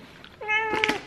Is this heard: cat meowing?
yes